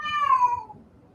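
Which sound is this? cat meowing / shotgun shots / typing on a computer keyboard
cat meowing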